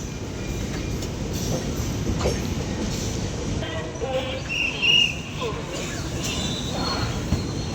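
A freight train passes close by a Kumbh Express train, a loud continuous rumble of rolling wagons with faint clatter and a brief high squeal midway.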